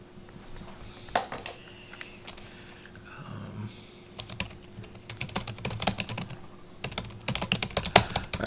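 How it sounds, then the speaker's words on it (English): Typing on a computer keyboard during a lecture: irregular bursts of close, crisp key clicks with short pauses between them, and a faint steady hum in the background. "I'm typing in here"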